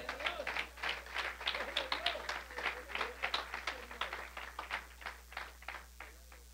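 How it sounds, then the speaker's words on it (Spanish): Congregation clapping at an evangelical cell-group church service, a fairly close run of individual claps in a loose irregular rhythm, moderately loud, with some voices mixed in. "Démosle un aplauso al Señor."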